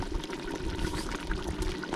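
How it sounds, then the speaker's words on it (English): Meatballs drop into a pot of boiling sauce, which bubbles and churns steadily at close range without any talk. "Now the sauce is boiling. You can start putting the meatballs like I am doing now."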